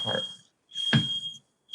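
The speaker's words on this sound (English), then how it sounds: "Oh, my fire alarm's going off." A home fire alarm sounds a steady, piercing high tone in repeated bursts, with a voice speaking over it.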